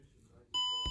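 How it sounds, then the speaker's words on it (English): A sharp electronic beep sounds once, a steady tone cutting in halfway through after faint background voices, with a thump near the end. "embrace the beep"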